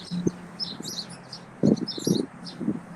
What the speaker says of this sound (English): the birds you got want to be an interview. They're extremely loud.